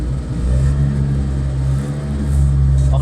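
A Piaggio Ape three-wheeler's small engine revs loud and close, holding a steady buzzing drone, easing slightly, then surging again near the end.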